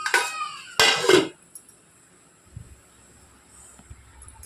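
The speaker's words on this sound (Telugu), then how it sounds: "ఇప్పుడు మటన్ కూడా ఒకసారి కలిపేసుకొని దీనికి మూత పెట్టేసుకుందాం" Mutton curry is stirred in a metal pot and covered with a lid. Two sharp, close metallic clatters are followed by near silence with faint small knocks.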